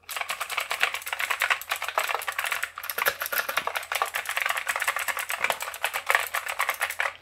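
Fast continuous typing on a Modecom Volcano mechanical keyboard with Kailh switches: dense, bright, clattering keystrokes close up, with a brief pause partway through.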